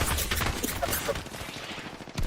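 Rapid, dense automatic gunfire from Apex Legends fills the whole stretch, a continuous close fusillade of overlapping shots with no clear gaps.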